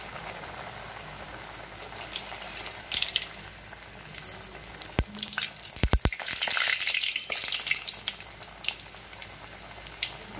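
Aloo kachori fry in hot oil over the flame, a soft continuous sizzle and bubbling with a few sharp utensil clicks in the middle, close and fairly quiet.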